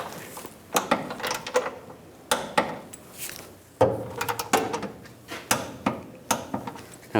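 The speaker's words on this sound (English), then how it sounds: "Torque this bolt to 30 foot-pounds." A torque wrench tightening a bolt on the rear bumper of a 1999-2006 Chevrolet Silverado 1500, heard as a series of sharp metallic clicks and ratcheting taps in irregular bursts, close and fairly quiet.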